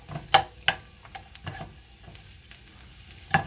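Sliced onions for hamburger soup sizzle faintly in a pan while a utensil scrapes and taps against it several times, sharp knocks standing out over a low background hiss.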